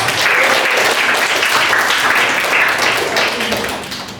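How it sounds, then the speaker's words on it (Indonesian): Students in a classroom give steady applause for a classmate, a dense, continuous wash of clapping that holds evenly before tapering off at the end. "kita beri tepuk tangan untuk Cia"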